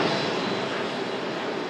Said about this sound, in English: A380 taxiing past us here at the Runway Visitor Park